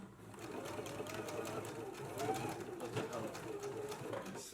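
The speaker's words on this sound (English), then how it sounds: "I'm going to stitch the lower edge closed at a 5/8 of an inch seam allowance." A sewing machine runs steadily, stitching the lower folded edge of a dress closed at a 5/8-inch seam allowance, a fast, even mechanical chatter that is close but quiet and continuous throughout.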